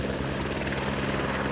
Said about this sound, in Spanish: Su helicóptero aparece y se preparan para subir.